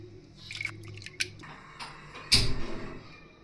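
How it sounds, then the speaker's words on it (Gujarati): Water is swirled and stirred inside a mixer jar to loosen leftover peanut chutney, producing close, wet squishing and scattered clicks of the utensil against the jar, with one louder splashy knock midway and no talking. "હવે આપણે છેલ્લે મિક્સર જારમાં જે વધ્યું હોય તેમાં થોડું પાણી એડ કરી દઈશું અને તેને પણ આ રીતે હલાવીને બધું લઈ લેશું આપણે"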